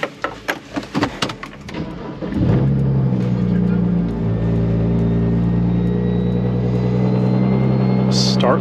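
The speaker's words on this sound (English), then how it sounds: "All right, let's go for a drive." A car engine with a newly installed aftermarket clutch pedal on a BMW 1M clone starts and settles into a steady, loud rumbling drive. A few sharp clicks and knocks come before it, and the engine drones on continuously afterward.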